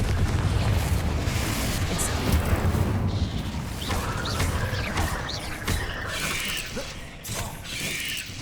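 A Confringo fire blast spell is cast in the Hogwarts Legacy video game, a loud burst of crackling, rumbling magical impact with mechanical clattering. Sharp transient hits are layered over a dense low roar.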